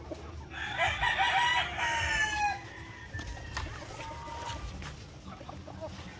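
An Asil gamecock rooster gives one loud, drawn-out crow close by, followed by quieter clucking and farmyard sounds.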